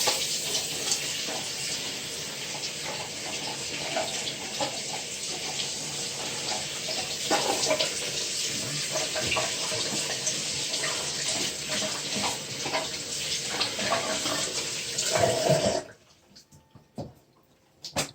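Tap water pours steadily into a sink while a face is rinsed, a continuous close splashing hiss that cuts off abruptly near the end, leaving a few faint handling sounds.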